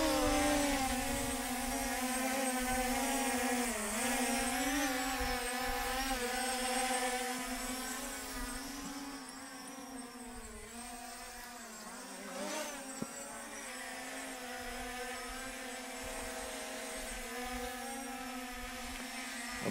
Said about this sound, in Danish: Det første indtryk af dronen, det er, at hernede, hvor der ikke er særlig meget vind, der flyver den faktisk temmelig stabilt.